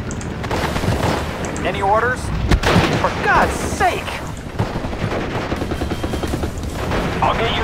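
Gunfire in the video game Steel Division: Normandy 44, a loud, dense battle mix of volleys, rattling bursts and booming blasts, with voices speaking over the fighting.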